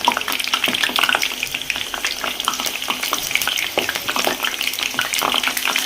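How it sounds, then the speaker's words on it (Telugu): Brinjal pieces frying in hot oil in a small pan, with a steady loud sizzle and crackle and occasional stirring scrapes throughout. "ఆయిల్ వేడెక్కింది కదా, ఈ వంకాయలు కూడా వేసాను"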